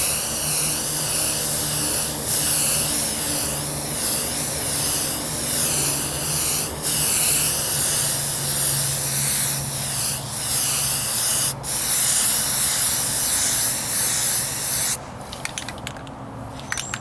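Spray can laying a primer coat on the wheel arch of a 1998 Ford Ranger, a close steady hiss in long bursts with brief gaps between overlapping passes, ending in a short clatter.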